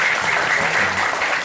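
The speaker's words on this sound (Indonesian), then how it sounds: "tepuk tangan dulu dong" Applause from an audience at a school entrepreneurship event, a steady dense burst of clapping filling the room for a brief moment.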